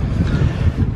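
Strong wind on the beach at Margate roars and buffets the microphone in a steady, loud low rumble, with a faint wash of surf beneath.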